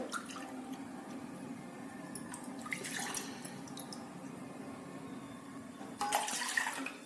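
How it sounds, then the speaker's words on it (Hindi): Water runs into a saucepan in a home kitchen for herbal kadha, a steady, soft trickling stream lasting several seconds, with a brighter splashing burst near the end. "काढ़ा बनाने के लिए सबसे पहले हम 2 कप पानी एक सॉसपैन में लेंगे"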